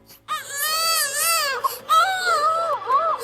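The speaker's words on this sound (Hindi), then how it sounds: "अरे, इसके अंदर से तो बच्चे के रोने की आवाज आ रही है।" Cartoon baby crying, loud close wails with wavering pitch in two long bursts separated by a brief pause, alone without other sounds.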